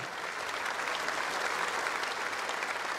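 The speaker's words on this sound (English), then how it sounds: "Please continue that applause for your runners-up for this match, Greg Harlow and Alison MERRIEN." Steady, sustained applause from a large crowd at an indoor bowls championship match, dense clapping that holds at an even level throughout.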